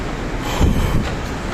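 A metro (MRT) train rumbles through a station, a loud, close low drone that swells to a heavier rumble in the middle with some rattle, then settles again. No one speaks.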